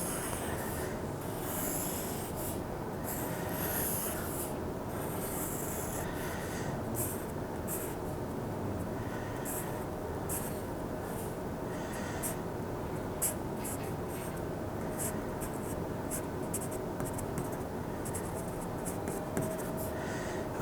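A pencil sketching an oval pumpkin outline on paper, a steady close scratchy rubbing that runs on for about twenty seconds with short pauses, no voice over it.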